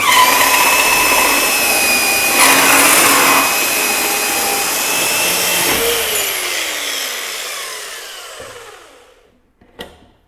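A 2020 Parkside PMB 1100 B2 metal band saw cuts through iron with a loud, steady grinding whine close by. The blade then winds down and fades, ending with a brief clack.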